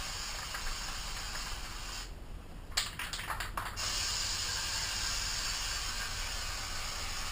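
Aerosol cleaner sprays onto a Husqvarna TC125 motorcycle air filter in a loud continuous hiss, broken by a short gap with a few quick bursts before the spray resumes steadily, with no talk.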